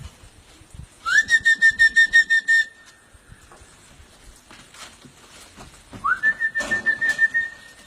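A person whistles a bright, rising then sustained note in two bursts to call parrots near a tree, the first about 1.5 seconds long and the second near the end, over faint background bustle.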